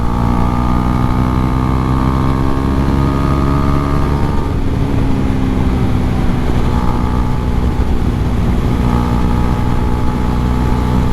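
A Husqvarna Svartpilen 401 single-cylinder motorcycle engine runs loud and close, its tone rising and falling as it is revved repeatedly over a continuous, throbbing idle.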